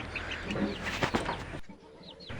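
Several backyard chickens cluck softly at close range, with short clucks spread through the clip and a brief quieter pause near the end, at a home that also keeps ducks.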